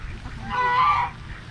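A goose honks in a single harsh, drawn-out call, fairly close and loud, at an outdoor veterans memorial plaza, with faint background noise before and after.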